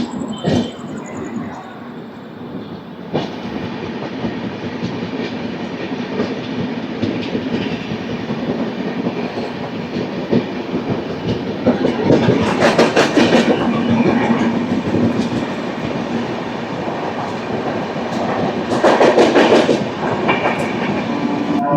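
Express train passing close by on railway tracks, a loud continuous rumble with rhythmic wheel clatter that swells in bursts of screech and rattle as the carriages roll past.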